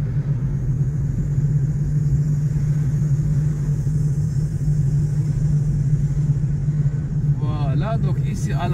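Car driving at about 40 km/h on a Montréal street, a steady close low engine and road rumble from inside the cabin, with a voice talking over it throughout.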